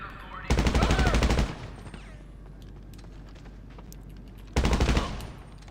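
GTA 5 Online gunfire in two loud bursts of rapid automatic shots, one lasting about a second and a later shorter one, with a quieter stretch between them.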